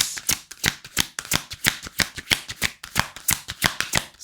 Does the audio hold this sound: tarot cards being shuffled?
yes